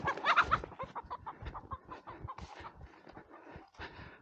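Close, rapid clucking and squawking from two roosters in a continuous busy stream of short calls, while chickens are moved to fresh pasture.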